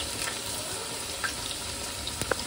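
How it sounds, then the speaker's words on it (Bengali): Potatoes frying in oil give a soft, steady sizzle up close, with a few light clinks and pops scattered through it. "আলুগুলো লাল লাল করে ভেজে নেব"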